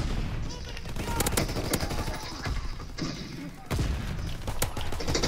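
Rapid gunfire from an M1941 rifle in the Call of Duty WW2 online game, loud bursts of shots with muffled thuds and brief pauses, mixed with game noise throughout.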